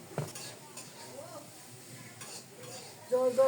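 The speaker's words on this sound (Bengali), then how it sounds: "শাকে রসুন ফোড়ন দেব, কড়াইটা বসিয়ে দিলাম" A wok is set on a clay stove for tempering kalmi greens with garlic, with faint metallic clinks and light stirring scrapes in a quiet kitchen.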